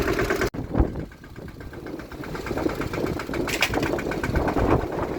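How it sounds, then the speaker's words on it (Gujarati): A tractor engine idles on a farm with a steady, even mechanical chug under faint background noise, after a brief dropout at the start. "ટ્રેક્ટર અંદર આવી જાય"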